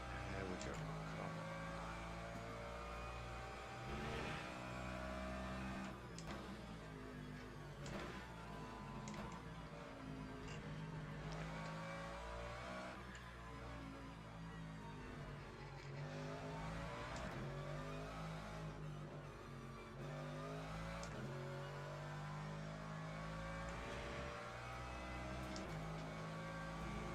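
A race car lapping in the Le Mans Ultimate sim, its engine a steady loud drone with rising and falling revs through gear shifts, heard alone without a break.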